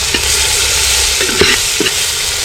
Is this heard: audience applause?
no